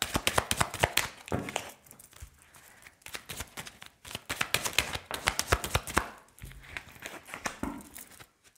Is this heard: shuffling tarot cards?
yes